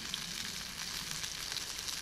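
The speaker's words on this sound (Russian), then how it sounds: "жарим котлетки и будем кушать" Meat cutlets sizzle in a pan at a forest clearing, a steady close crackling hiss that carries on without pause and with no voices.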